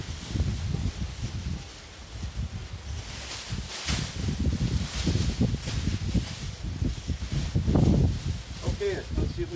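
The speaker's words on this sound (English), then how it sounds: "trying to do this in the wind is not recommended" Gusty wind buffets the microphone outdoors at a beehive being fitted with a polystyrene insulation wrap, a steady rough roar rising and falling with the gusts, loudest near the end, with faint rustling.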